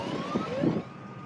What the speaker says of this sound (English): Finally, we got the alarm turned off.